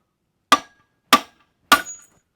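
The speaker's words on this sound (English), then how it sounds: "Get your mumbo hammer." Three sharp blows of a hammer on metal during flywheel removal from a Yamaha 250 outboard motor, evenly spaced about half a second apart, each with a brief ringing tail; loud and close with silence between.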